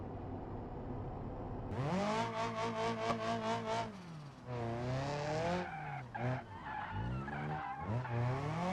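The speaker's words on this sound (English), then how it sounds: "I start drifting this thing and this feels different" A car in BeamNG.drive slides through a drift, its tires squealing in long wavering screeches while the engine revs and drops, close and loud with no talking.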